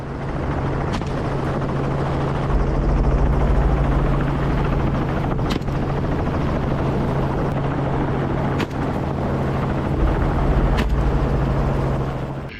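A helicopter flies overhead during a Texas wild hog hunt, its loud, steady rotor drone and engine hum filling the whole stretch without pause and with no voices.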